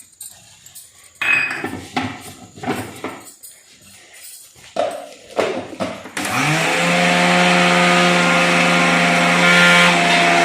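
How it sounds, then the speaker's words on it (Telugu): Kitchen mixer grinder grinding sesame seeds with cardamom pods: clinks and knocks of handling the jar for several seconds, then the motor starts with a loud, steady whirring grind that continues to the end. "మిక్సీ పట్టుకుందాం అందులోనే కొన్ని ఇలాచీలు కూడా వేసుకుందాం"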